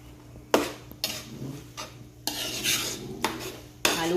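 Sinantolan simmering at a boil in a pot while being stirred, giving a string of sharp utensil knocks and scrapes against the pot over a steady low bubbling hiss.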